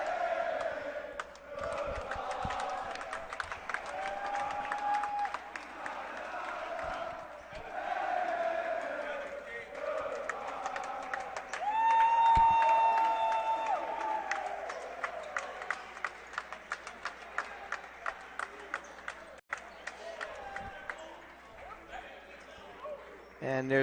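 A crowd roars and cheers in a packed basketball gym during a game, and a referee's whistle cuts through partway. The noise stays steady and loud under ongoing courtside commentary.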